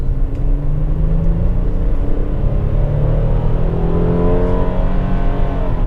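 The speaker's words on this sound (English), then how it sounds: "Let's see how the V6 gets us up a steep hill." A Hyundai Palisade with a naturally aspirated 3.8-liter V6, eight-speed automatic and all-wheel drive, climbing a steep hill under acceleration, a steady close engine drone with smoothly rising revs heard from the cabin, with no talk.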